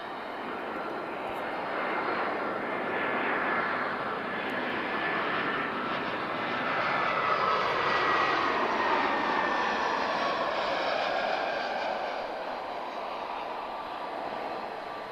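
An Edelweiss airliner at Lisbon Airport roars steadily for the full stretch, a broad continuous jet engine rumble that swells slightly in the middle as it passes, heard from a distance with no talk.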